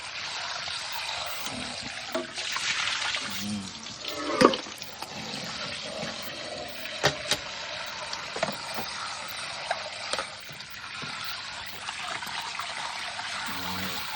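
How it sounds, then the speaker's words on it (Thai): Rice or fish is rinsed in clean water in a basin, with soft continuous trickling and sloshing and a few sharp splashes and clunks, fairly quiet and close. "จากนั้น ล้างน้ำสะอาด"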